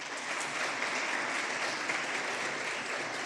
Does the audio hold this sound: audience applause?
yes